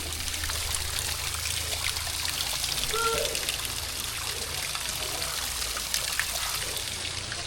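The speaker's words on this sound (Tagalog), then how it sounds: "Yan ang ilog mga bes." River water flows steadily at a campsite by a deep pool, a constant trickling and rushing stream that stays moderately close and even for several seconds, with no one talking over it.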